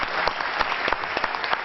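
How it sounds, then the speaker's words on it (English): Audience applause at a panel on the economics of happiness, a steady wash of many hands clapping with distinct individual claps popping out, moderately loud and continuous for under two seconds with no voices. "I really want to thank you and making an applause to you"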